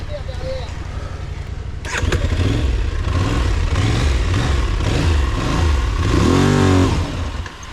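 A motorcycle short on throttle with traction control active struggles out of a rough passage: an engine roars up abruptly and holds loud, surging revs rising and falling, close, with voices speaking over it.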